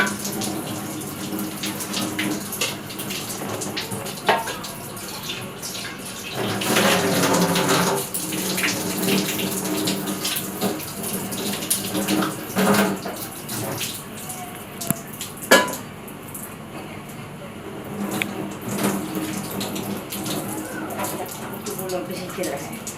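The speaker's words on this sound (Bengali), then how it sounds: "এখন হাঁড়ি পাতিলে ধুইয়া খাবার রেডি করে" Pots and pans being washed under a running tap, a steady splashing water flow with clattering bursts, continuing at moderate level with background voices.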